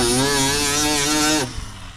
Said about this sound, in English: I'll just use my die grinder with a flappy wheel.